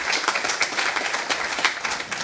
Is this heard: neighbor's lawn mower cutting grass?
no